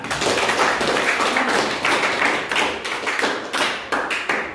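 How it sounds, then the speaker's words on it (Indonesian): Applause from a classroom audience for a group presentation, quick uneven claps and taps in a dense patter that stays steady and fairly close for several seconds before thinning slightly. "Berikan tepuk tangan"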